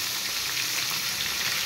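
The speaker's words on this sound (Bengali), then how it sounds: "এবার বেগুন ভেজে নেব। বেগুন কেটে নিয়েছি, বেগুনগুলো ভেজে" Sliced eggplant sizzles in hot oil in a pan, a dense, even, close-up crackle and hiss with no talk.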